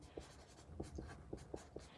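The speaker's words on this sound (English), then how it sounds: "I'm writing this all out now." Pen or pencil writing on paper gives short, soft scratching strokes in an uneven rhythm, quiet and close.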